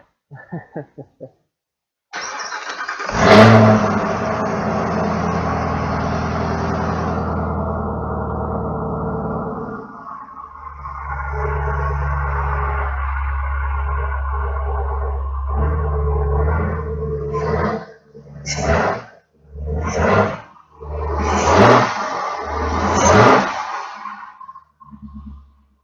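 A Chevrolet Camaro ZL1 with a RotoFab intake cranks and starts with a loud roar, settles into a rumbling idle, then revs hard in several sharp bursts near the microphone.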